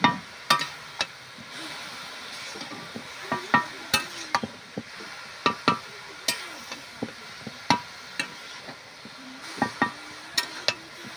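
Spoon or ladle knocking and scraping in a pot of bottle gourd dal cooked with coconut, giving a steady run of sharp close clicks and taps over a faint sizzle, with no talk.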